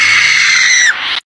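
A person imitates Gohan's scream from Dragon Ball: a single loud, sustained high-pitched shriek that drops in pitch near the end before cutting off abruptly, with nothing else audible.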